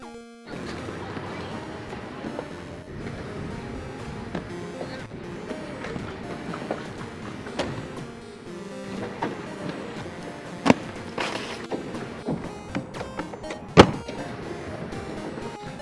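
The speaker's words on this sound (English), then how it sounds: "I took them to my local skate park to see how they feel." Rollerblade Blank Sean Keane aggressive inline skates roll across a skate park surface in a sustained wheel rumble, punctuated by sharp clacks and impacts from landings and grinds.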